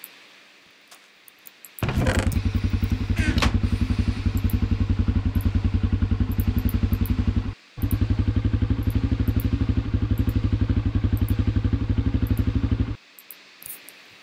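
Gold dirt bike engine from a Minecraft dirtbike mod, a loud, steady buzzing motor drone that starts abruptly, cuts out briefly mid-way, then resumes before stopping, heard close with no talk.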